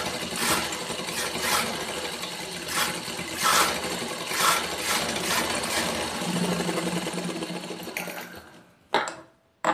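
A sewing machine runs a fast, steady mechanical whir while stitching a nightie neckline, pulsing slightly in speed before slowing and stopping near the end.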